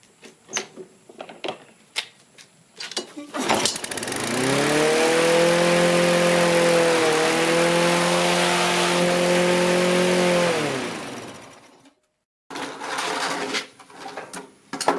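A dump-find lawn mower engine starts and runs at wide open throttle, a loud, steady, buzzing roar held for several seconds before cutting off abruptly, with scattered knocks and handling clatter before and after.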